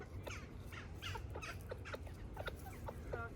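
Backyard allotment chickens cluck contentedly in a steady series of short, bright calls, fairly close over a low outdoor background, with no talking.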